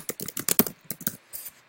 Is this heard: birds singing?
no